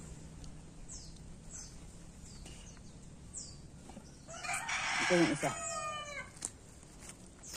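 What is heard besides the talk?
rooster crowing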